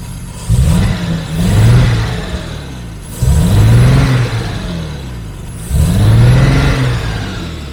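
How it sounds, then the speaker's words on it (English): A Jaguar XJS V12 engine, a barn find that had been running overly rich, idles loudly and is revved three times in a row. Each rev swells into a deep, loud roar and then drops back to a rough idle. "You see, idle's good. It does rev pretty alright. It's just really loud."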